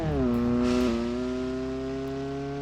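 A Honda Civic VTEC engine with the exhaust removed, in the BeamNG.drive video game: a steady drone with strong harmonics, dipping slightly in pitch partway through, then holding a flat, buzzy tone alone.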